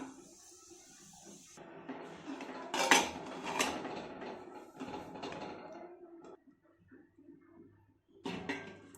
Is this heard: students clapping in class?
no